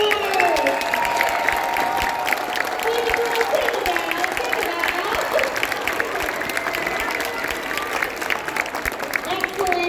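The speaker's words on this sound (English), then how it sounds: "Another round of applause for our performers." An audience applauds steadily throughout after a fourth-grade school chorus performance, a dense, continuous patter of many hands with some crowd noise mixed in.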